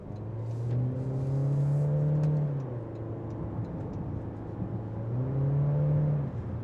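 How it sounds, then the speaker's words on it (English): A 2025 Toyota Corolla Cross Hybrid with an eCVT accelerates hard, its engine swelling into a loud, sustained droning tone that rises, eases off, then surges again in a second pull, with no talk over it. "the annoying droning noise of this car, obviously it's coming from the fact that this car doesn't have a traditional transmission"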